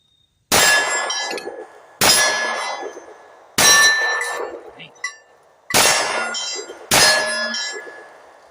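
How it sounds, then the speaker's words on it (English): Five loud, sharp metallic clangs from .45 Auto rounds fired from a Girsan 1911 striking steel targets, each ringing out and decaying over about a second, spaced at irregular intervals. "It is smashing these steel targets."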